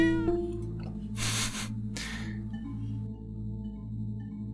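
A cat meows twice in the Hidden Paws puzzle game, two close, clear calls over a steady soft tonal game background with a chime at the start.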